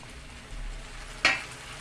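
Peppers sizzle steadily in a pan as tomatoes go in, a soft continuous frying hiss broken by one brief sharp splash-like burst of sizzling midway.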